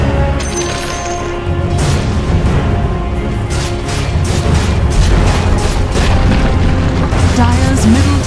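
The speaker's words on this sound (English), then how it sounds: "Dire's middle tower has fallen." Dense, rumbling explosions and battle clashes as a Dire tower comes under attack in Dota 2, with booms layered continuously over a loud game mix and an announcer-style voice.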